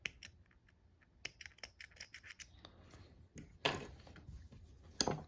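Scissors snip the leftover yarn end off a finished crochet facial scrubby after fastening off, giving a few close, crisp clicks and cuts scattered among light handling rustles, with a louder snip near the end.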